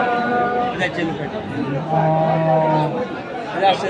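Cattle, dairy cows and calves, low repeatedly over a busy crowd at Khochabari livestock market in Thakurgaon, with voices chattering and talking close by throughout.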